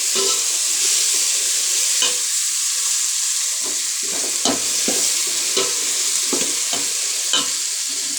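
Tomatoes cook in oil with chilli powder under a loud, continuous sizzle, punctuated by repeated scraping stirs of a spoon against the pan.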